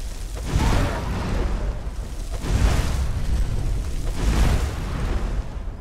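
Three heavy booming blasts in the game Skyrim, each a deep rumbling impact roughly two seconds apart, loud and broad, with sustained low rumble filling the gaps.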